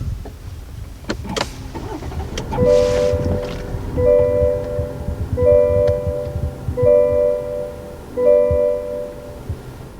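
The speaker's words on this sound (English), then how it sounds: "we have a new startup tone here on the CT5" A 2020 Cadillac CT5's push-button start triggers a few brief clicks and mechanical whirs, then a clear electronic startup chime that repeats as a two-note tone about every 1.4 seconds, loud and close inside the cabin.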